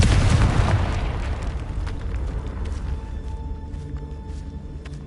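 A Confringo spell detonates in Hogwarts Legacy with a loud burst at the start, then a long rumbling decay scattered with small crackles and pops as it fades, no voices.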